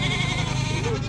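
Goats bleat at a crowded market in the high mountains of northwest Vietnam, a loud, close, wavering cry filling the moment amid busy background noise.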